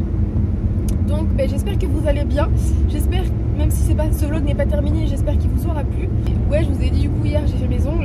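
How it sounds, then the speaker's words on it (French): Inside a car driving in the rain, a steady low engine and road rumble runs continuously beneath someone talking throughout. "Désolée pour le bruit de la voiture plus de la pluie."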